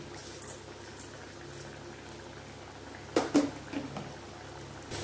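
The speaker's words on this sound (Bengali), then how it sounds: "আর বেশি জল দিলে আর এটাকে ঢাকা দিয়ে দিলে এটা সিদ্ধ হয়ে যাবে তাড়াতাড়ি" Pointed gourd curry bubbling in a covered pan makes a steady, soft, low boil throughout, with a few brief clattering knocks about two-thirds of the way through.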